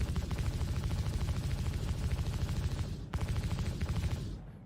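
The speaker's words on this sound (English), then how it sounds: "Let's show you the same audio effects applied to the ship weapons, taking us from this P6L was already my favourite gun" Ship-mounted P6L cannon fire in Star Citizen, a fast, steady stream of heavy thudding shots with one brief gap before resuming, loud and close, then trailing off into a fading rumble.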